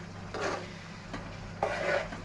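Meat seasoned with salt and pepper frying in a pan for Syrian ouzi, a steady soft sizzle broken by two or three scraping stirs of a utensil, close and fairly quiet.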